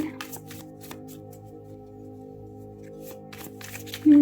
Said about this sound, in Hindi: ओह माय गॉड, ये कार्ड्स बहुत फिसल रहे हैं आपकी रीडिंग में।